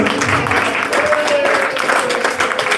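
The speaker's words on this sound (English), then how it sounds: "A round of applause across the room, acknowledging the terrific player that KIPTOO is." Applause across the room for pool player Kiptoo at a tournament final, a short burst of crowd clapping under a speaking voice.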